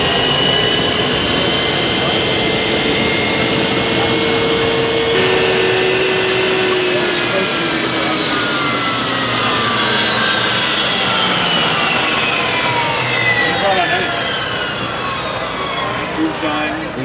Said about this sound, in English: It sounds like a jet plane or a helicopter. Yeah, you hear the turbine once and you remember that sound for life.